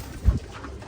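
One short, low coo from a Rampuri cross pigeon, close and fairly quiet, over a faint background.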